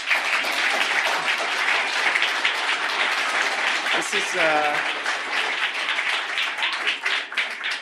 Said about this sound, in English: they gave you 2 rounds of applause